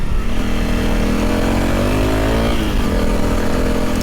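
A Honda CRF300L single-cylinder engine pulls hard up a steep climb, the revs rising steadily in one long, loud, close acceleration before easing slightly near the end.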